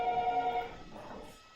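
A telephone rings once indoors in a classroom, a fairly faint electronic ring that fades out over about a second and a half.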